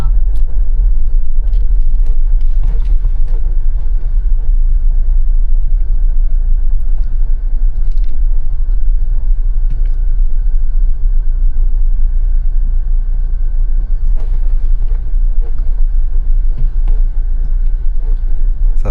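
A Mahindra Thar Roxx 4x4 with soft suspension drives over a rough, potholed road, producing a loud, continuous low rumble with scattered knocks and thumps throughout.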